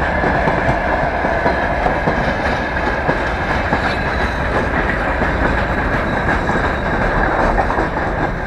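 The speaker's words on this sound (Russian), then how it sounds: "Давай туда снимем поезд." A train rumbles past close by, loud and continuous, with steady clickety-clack of wheels over the rails throughout.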